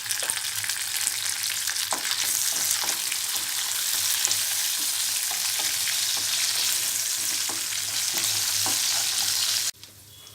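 A tempering of seasoning seeds, garlic, curry leaves and dried red chillies frying in hot oil gives a dense, steady sizzle with scattered pops, close and even, cutting off abruptly near the end.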